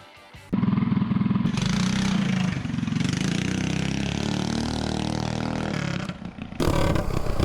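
An MB 200 mini bike engine on a test ride, loud close revving and buzzing that holds steady, dips briefly, then surges again, with rattling clatter throughout.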